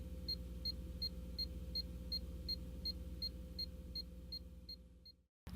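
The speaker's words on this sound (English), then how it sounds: "The steady beeping sound indicates that the transmitter has a good low-resistance connection" A Scout locator transmitter with a good low-resistance connection gives a steady run of short, evenly spaced high beeps about three per second. A constant low electrical hum sits beneath the beeps, then everything cuts off abruptly near the end.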